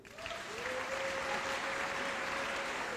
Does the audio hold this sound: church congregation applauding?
yes